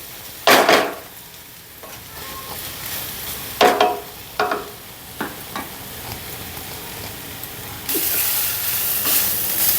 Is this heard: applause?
no